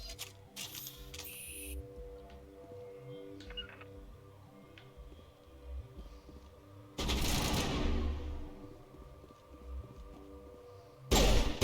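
Burst-fire rifle shots in Mass Effect Legendary Edition: two loud broadband bursts stand out, one in the middle and a shorter one at the end, over a busy ticking, mechanical game soundscape.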